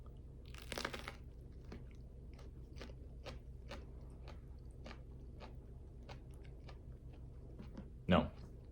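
Shishito pepper being bitten and chewed close up, a sharp crunchy bite followed by a long run of soft, evenly spaced chewing clicks, with a louder crunch near the end.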